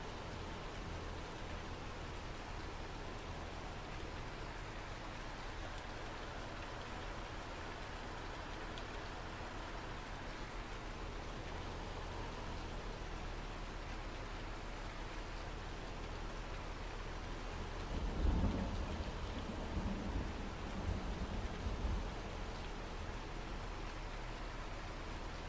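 Steady rain falls in the Farming Simulator 19 video game as a dense, even hiss throughout, with one brief low rumble of thunder near the end.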